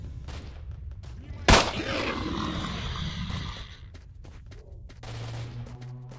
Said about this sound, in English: There are gunshots.